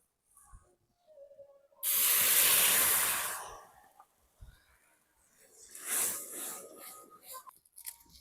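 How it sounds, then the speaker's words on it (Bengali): Milk heating in a pot for pitha gives a loud hissing, bubbling surge lasting about a second, then fades, followed by a second, softer hiss a few seconds later, with a voice speaking quietly around it. "খুব সুন্দরভাবে দুধটা ফুটে উঠেছে"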